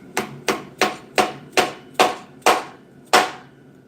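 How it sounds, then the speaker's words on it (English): Eight evenly spaced light taps from a rubber mallet, seating a piece in a succulent holder, each a short close thud with a quick decay, steady rhythm with a slightly longer gap before the last tap, no talking. "Use a rubber mallet."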